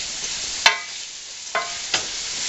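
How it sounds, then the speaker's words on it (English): Rice and onions toast in hot oil with a steady sizzle, while a spoon scrapes through them in three distinct stirring strokes, close and loud, with no talking. "we're going to add the rice right to the oil is to toast it up and give it a little extra flavor. Remember to stir constantly"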